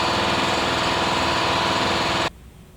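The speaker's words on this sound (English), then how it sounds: "is using the air compressor" An air compressor runs close by with a loud, steady mechanical chugging drone, then cuts off abruptly, leaving only quiet room hum.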